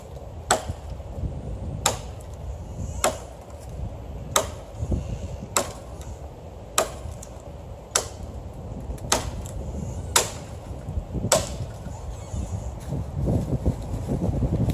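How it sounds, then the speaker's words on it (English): Kabar BK9 bowie knife chopping kindling and firewood outdoors, a series of about twelve sharp, evenly spaced chops roughly every one to one and a half seconds, close and crisp over light wind, with no talking. "So we're just getting a bunch of our firewood here ready."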